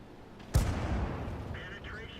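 An AMX 12t tank's main gun fires once in a tank battle game, a single sharp, loud blast followed by a rumbling decay, with a faint voice and game chatter in the background.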